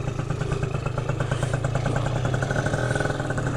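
A Yamaha Zuma 70cc scooter with a Polini kit, cheap and freshly rebuilt, rides on a street, its small engine buzzing steadily and loudly up close with a rattly, clattering edge throughout.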